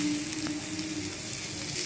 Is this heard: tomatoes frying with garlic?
yes